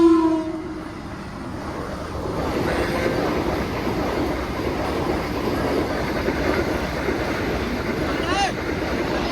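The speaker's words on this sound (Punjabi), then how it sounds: "ਆ ਗਈ ਟ੍ਰੇਨ ਦੇਖੋ" A train rumbles steadily past close by, wheels clattering, and a brief horn sounds near the end.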